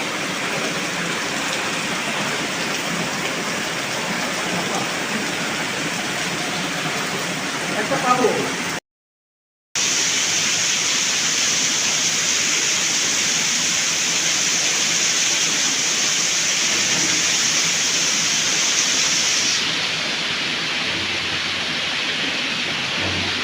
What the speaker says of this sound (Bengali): দেখুন বৃষ্টি কী পরিমাণে